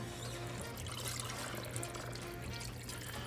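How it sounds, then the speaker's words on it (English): Water pours steadily into a pot of chicken and sausage gumbo on the stove, a continuous close rushing wash lasting the whole moment. "we may need to add some water"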